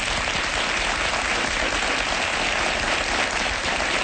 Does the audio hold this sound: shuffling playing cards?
no